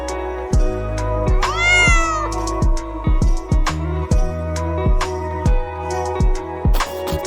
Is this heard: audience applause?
no